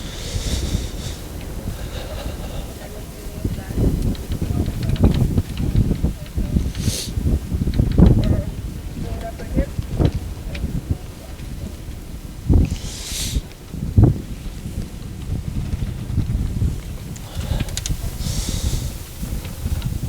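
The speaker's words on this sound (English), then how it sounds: "This wind is a very stiff, very cold headwind, almost completely parallel with the race course." A stiff, cold headwind sweeps along a rowing race course during a Princeton–Georgetown lightweight men's regatta, roaring and buffeting the microphone in uneven gusts with a few sharp bumps and knocks.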